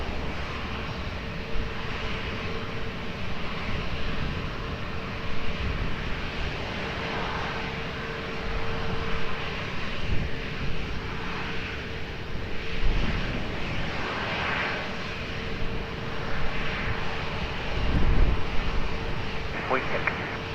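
An airliner lands on runway 20 at Lisbon Airport, its engine roar a steady, moderately distant drone that rises and falls over about twenty seconds, with a faint radio voice now and then.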